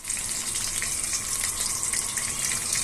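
Onion, ginger and garlic paste is frying in a pan over melted sugar for a spicy chicken curry, giving a loud, dense, continuous sizzle with bubbling crackle throughout.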